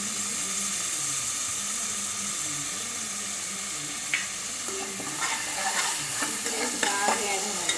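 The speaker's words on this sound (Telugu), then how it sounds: "బాగా యాగనివ్వండి." Onions fry in hot oil in a pan for a paneer curry, a steady close sizzle with occasional scraping and clinking as a spoon stirs them, growing busier toward the end.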